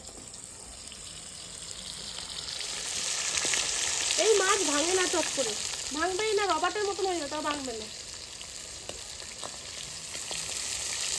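Fish coated in turmeric frying in hot oil, a close crackling sizzle with popping under a voice talking over it.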